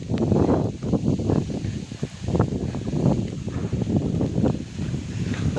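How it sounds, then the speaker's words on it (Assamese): Strong wind blowing through nearby bamboo trees on a rainy day, a continuous rustling and gusting with uneven surges, fairly close and moderately loud, with no talking. "পূৰা বতাহ মাৰি আছে আৰু ওচৰতে আমাৰ ইয়াত বাঁহ গছ আছে"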